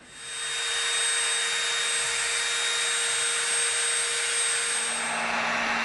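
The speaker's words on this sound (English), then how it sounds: "we're going to take the Dremel and we're going to slightly soften the edge" A Dremel rotary tool spins steadily against the edge of EVA foam, rounding it off, a continuous high-pitched whine held at close range for several seconds with no talk.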